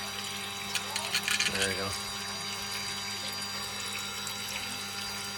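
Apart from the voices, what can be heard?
water vortex swirling in a pumped water device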